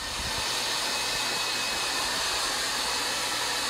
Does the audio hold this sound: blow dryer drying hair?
yes